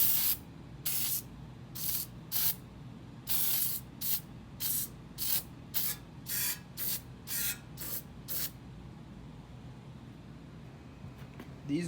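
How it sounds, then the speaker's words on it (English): Short bursts of penetrating oil sprayed onto tight bolts on the head of an old Weldanpower 130 welder engine, about ten separate hissing spritzes in an uneven rhythm, close and clear over a low background hum. "I'm gonna hit all these bolts with a little bit of penetrating oil"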